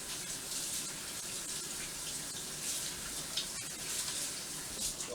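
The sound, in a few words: running tap water while washing hands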